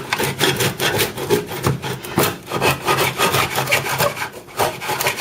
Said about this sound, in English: And we're going to miter the bread.